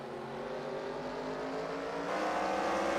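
Race cars in an SRX Series round at Stafford Motor Speedway roar down the front straightaway into turn one, a steady, loud blend of engine drone that builds slightly toward the end, with no talk.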